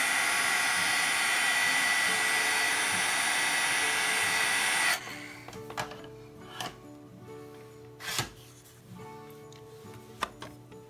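A heat embossing tool blows loud and steady for about five seconds while working on stamped gold detail for a Christmas card, then cuts off, leaving quiet tapping and handling sounds.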